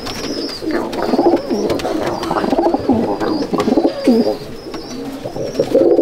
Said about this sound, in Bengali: এটা আমার ঘরের বানানো পায়রা